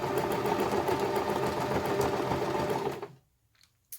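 A sewing machine stitches fabric for an Easter bunny, a fast steady mechanical whirring close by that runs for about three seconds and then stops.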